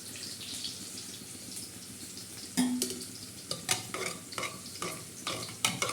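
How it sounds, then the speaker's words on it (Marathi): Toor and moong dal with turmeric stirred in a pot, a soft background sizzle punctuated by repeated clinking, scraping strokes of a spoon against the metal, close and clear without speech. "हलवून घेणार आहोत तुरीची आणि मुगाची डाळ"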